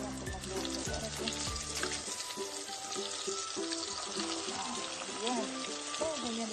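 Chicken drumsticks fry in oil with a steady, close broadband sizzle that runs the whole time, while a voice speaks in the first couple of seconds and tonal background sounds play throughout.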